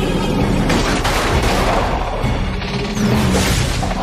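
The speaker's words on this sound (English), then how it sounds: "Fire the EMP torpedo!" A cartoon EMP torpedo fires in a dense, roaring blast of booming explosion-like noise that stays loud for the whole few seconds.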